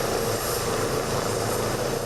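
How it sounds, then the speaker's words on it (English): A medical transport helicopter arriving at a hospital to collect a patient, heard as a steady, loud rotor and engine roar that fills the whole clip without a break. "This helicopter is here to pick up another patient."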